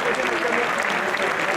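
Audience applause for the players at a Super Street Fighter 2X solo final at Stunfest 2014, a dense, steady wash of clapping filling the room without pause.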